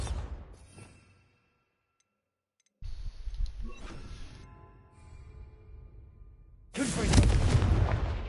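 Bombarda spell blasts in Hogwarts Legacy: a booming burst that fades into a silent gap, then a rumbling crackle, and a loud final explosion near the end.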